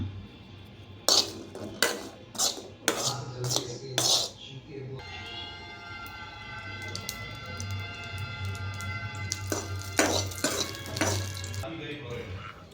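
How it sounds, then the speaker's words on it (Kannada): Green chillies roast in oil in a pan while coconut chutney is made, with repeated metal clinks of a utensil against the pan and a steady sizzle underneath, close and moderately loud. "ಮೆಣಸಿನ್ಕಾಯಿ ಹುರಿತೀನಿ ನೋಡಿ. ಸ್ವಲ್ಪ ಚೆನ್ನಾಗಿ ಅದನ್ನು ಎಣ್ಣೆ ಹಾಕಿ"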